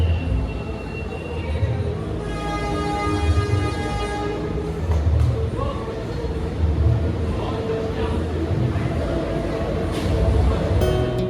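The Mutiara Timur passenger train from Jember to Surabaya rumbles steadily, with a dense low roar and rhythmic clatter running the whole time and a sustained tonal horn-like note early on.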